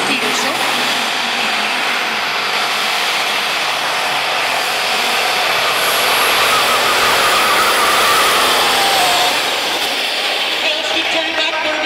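A pulling tractor's engine roars loudly and continuously during a pro tractor pulling competition, a dense, sustained high-pitched drone that holds steady throughout.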